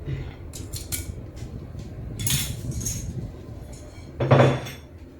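Chicken liver with spices is stirred in a pan, with a utensil scraping and clinking against the metal in irregular strokes and one louder clatter near the end.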